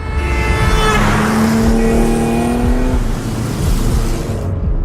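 A car and motorcycles speed through a chase, their engines roaring loudly and continuously, with a rising whine as one races past nearby before the noise fades slightly.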